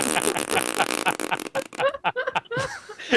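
A voice imitates a long fart during a tabletop role-playing session, a loud, drawn-out buzzing raspberry sputtering in uneven bursts close to the microphone.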